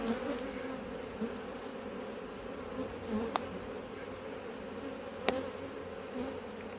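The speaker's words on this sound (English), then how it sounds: "It's almost like they want to swarm, it's that sort of noise." Honeybee colonies in an apiary give off a steady, dense, agitated swarm-like buzz that holds at an even level throughout, with a couple of sharp faint clicks but no talking.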